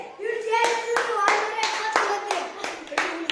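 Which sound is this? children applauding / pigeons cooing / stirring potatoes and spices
children applauding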